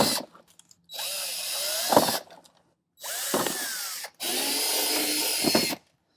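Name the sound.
drill with 5/32 bit drilling out plastic fender clips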